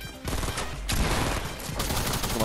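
Fortnite blue pump shotgun blasts: a few heavy, booming shots in quick succession, loud and close, each followed by a ringing tail, with no speech.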